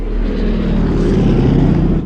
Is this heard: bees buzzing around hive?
no